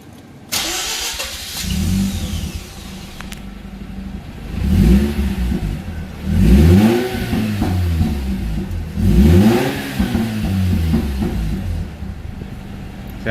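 A Mazda RX8 rotary engine, freshly fitted with a new thermostat, cranks and fires, then settles into a rough idle with several sharp revs rising and falling, recorded close on a hot day.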